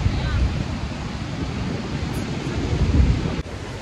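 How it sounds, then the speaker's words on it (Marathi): Rough, churning sea waves at Harnai near Suvarnadurg fort during heavy Konkan rains, a steady loud roar of surf mixed with wind buffeting the microphone, continuous throughout with a brief swell near the end. "ह्या खवळणाऱ्या लाटा बघा"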